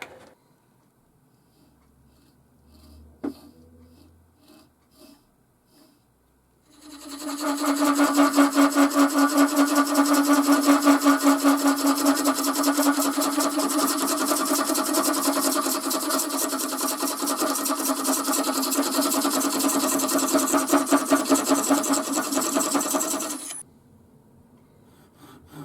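A saw cuts the lid off a small wooden ring box about half an inch down, a steady rasping stroke sustained loud and close for around sixteen seconds between quiet handling noises.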